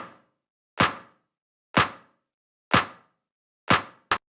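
Programmed drum claps through a Valhalla Vintage plate reverb with the top end cut, five sharp claps about a second apart, each with a short tail, the last pair close together, loud and alone.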